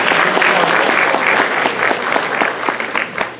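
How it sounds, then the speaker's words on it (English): A crowd at a commission gathering applauds museum commissioners with loud, dense clapping that holds strong for about three seconds, then thins slightly toward the end. "Let's give them a round of applause."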